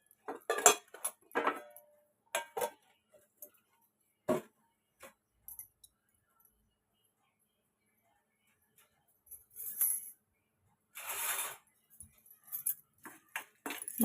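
Tempering seeds (urad dal, mustard, cumin, chana dal) stirred in hot oil in a small pan for a Telugu ridge gourd curd chutney, with scattered metallic clinks and scrapes of a spoon against the pan, separated by quiet gaps.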